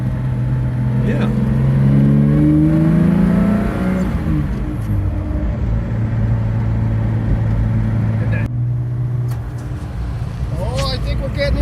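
A BMW pulls in at a British car show outdoors, its engine revving and climbing in pitch before settling into a steady, close drone, with people talking over it.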